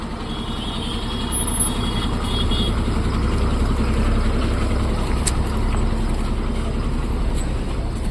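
A Tata truck's engine idles with a low, steady diesel rumble nearby as the vehicle gets ready to pull away, with a faint high beeping over the drone.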